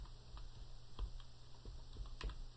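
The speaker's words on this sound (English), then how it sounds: "I'm going to type in keyboard." Keys tapped on a computer keyboard while entering a search word into a help index, a faint, close run of light irregular clicks spread across a quiet background hum, with no voices.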